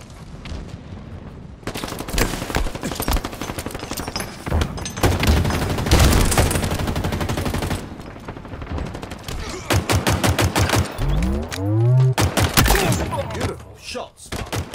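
Rapid bursts of gunfire in Halo Infinite Team Doubles, sustained automatic volleys and single loud shots crackling across most of the stretch, with voices talking over parts of the exchange.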